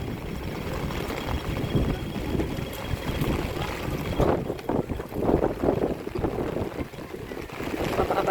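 Strong wind buffets the microphone on a rainy Hong Kong street in stormy weather, a steady rough roar that surges and gusts throughout with no talking.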